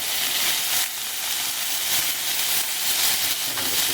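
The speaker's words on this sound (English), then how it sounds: "just give it a quick sear" Tuna sears in a hot pan with a continuous bright sizzling hiss, steady and close, swelling slightly in waves over a few seconds.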